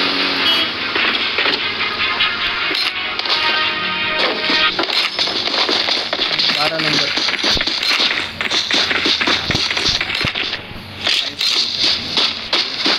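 Vehicle engine droning steadily in a PUBG Mobile duo match, a continuous loud motor rumble with clattering bursts and rough surges throughout.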